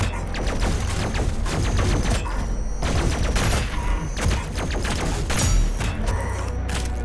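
Sniper shots fired at a turret in the video game Doom Eternal, a dense run of sharp repeated gunfire bursts with metallic mechanical clatter, loud and close, broken by brief pauses.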